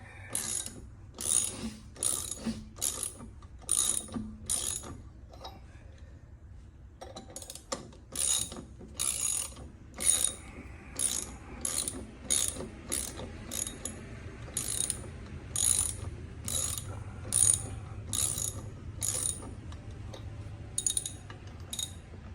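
A wrench is worked by hand to tighten the lug nuts on a stroker Mustang, giving quick runs of sharp ratcheting clicks in short repeated bursts with brief pauses between, fairly quiet and close.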